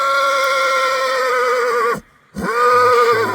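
A horse gives two strong, close whinnies, the first long and wavering, then a short break and a second rising call, loud and alone with no talk.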